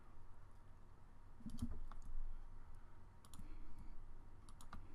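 Computer mouse clicks, a few soft scattered clicks at close range over a quiet room hum, with no voice.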